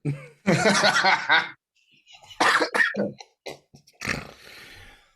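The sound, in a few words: coughing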